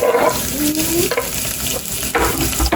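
Cumin seeds dropped into hot oil in a pan, giving a steady, close frying sizzle with a brief stirring scrape, no voices.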